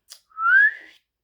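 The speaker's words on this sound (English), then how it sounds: "DJ whistled" A boy gives one short rising whistle to call his dog, clear and alone, preceded by a faint click.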